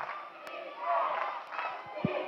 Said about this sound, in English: We're going to let the crowd tell you what happens as Lewis is called for the foul.